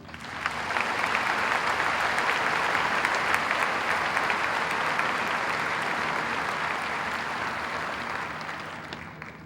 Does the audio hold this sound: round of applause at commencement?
yes